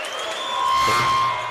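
A volleyball crowd cheers and applauds for the Falcons in a college men's match, a short, steady burst of indoor cheering. A sustained tone runs through it.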